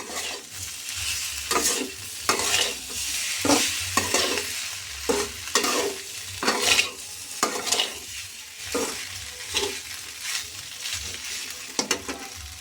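Boiled pasta is stirred in a frying pan for veg fried rice over a steady sizzle, with a spatula scraping and tapping in an uneven rhythm throughout, close and moderately loud.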